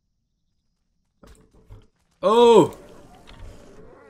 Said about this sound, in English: we got a dire wolf.